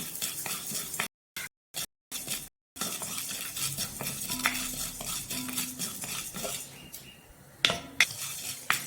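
Black urad dal dry roasted in a pan for sesame idli podi, giving a steady gritty scraping and stirring with occasional sharp clinks of a spoon against the metal, close and fairly quiet, with several brief silent gaps near the start.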